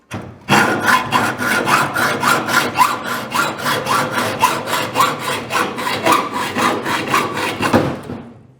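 Hacksaw cutting through the steel roof of a 1951 Chevy truck during a roof chop, with steady back-and-forth rasping strokes, roughly two per second, close and loud for about eight seconds.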